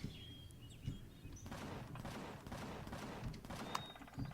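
Rapid bursts of gunfire from a mine turret in the space survival game Empyrion: Galactic Survival, cracking repeatedly over a dense, continuous game soundscape at moderate loudness.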